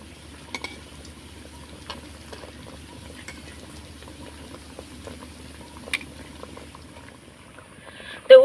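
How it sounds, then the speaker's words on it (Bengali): Chira (flattened rice) and potato snacks bubble and crackle steadily in hot oil, a continuous close frying hiss with scattered small pops and a louder clatter at the very end. "তো উল্টে পাল্টে মিডিয়াম আছে ভেজে নিয়েছি, মুচমুচে করে হয়ে গেছে"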